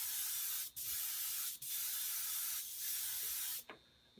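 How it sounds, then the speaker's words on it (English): Candy orange paint sprayed lightly from a can onto a thin plastic stencil, a steady close hiss in several long bursts with brief gaps between them. "I'm spraying it pretty lightly"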